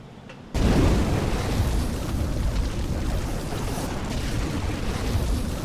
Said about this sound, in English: So you can, breathe fire.